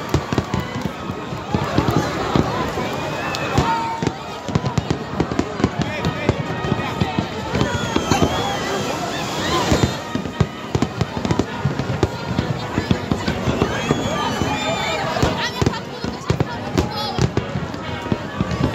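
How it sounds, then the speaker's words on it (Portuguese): Fireworks burst over Icaraí beach at a New Year's Eve celebration, a dense, loud barrage of cracks and booms rolling on without pause, with someone narrating over the display throughout. "A queima de fogos na Praia de Caraí continua com belíssimas evoluções."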